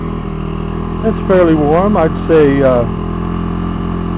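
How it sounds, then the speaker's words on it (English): A small generator engine and its blower exhaust run together on a home-made ultralight airship gondola, a steady close mechanical hum with a low buzzing drone throughout, while someone talks briefly over it. "That's the blower exhaust. And the engine exhaust together."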